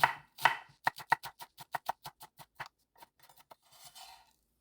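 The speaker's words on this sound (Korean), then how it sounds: "파 먼저 송송 썰어줄게요" A knife slices green onions on a cutting board: a quick, crisp run of about a dozen sharp, evenly spaced chops, close and clear, easing into softer scraping at the end.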